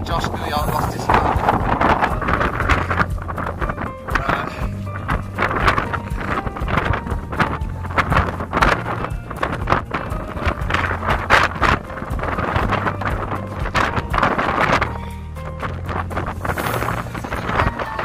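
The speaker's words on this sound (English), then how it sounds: "Sorry for the sound in this part, but it's very, very windy." Strong wind gusts across the hilltop of Bamford Edge, roaring steadily into the microphone with fluctuating bursts and faint background tones.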